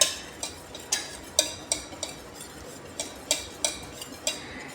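A utensil stirs a thickening mixture in a pot on the stove without stopping, a spoon clinking against the rim in a steady, faint rhythm of about two taps per second.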